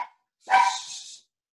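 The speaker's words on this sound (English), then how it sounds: "sorry about that, my dogs" A single short, fairly loud dog bark or yip close by in a home, ringing briefly before silence, with a faint sound just before it.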